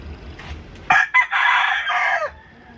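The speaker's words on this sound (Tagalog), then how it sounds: "Kasama tayong manok." A single rooster crow rings out close and loud, a short opening note followed by a long drawn-out call, with no talking.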